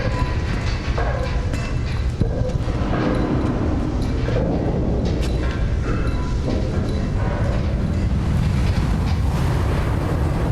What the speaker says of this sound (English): Oh, it's water. You guys better run.